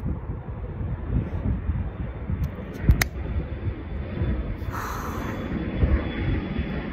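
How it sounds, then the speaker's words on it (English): Airplane passing near an airport, a continuous loud roar with rumble and wind-like noise throughout, a brief sharp click partway through and no clear talk. "Okay, a plane is coming."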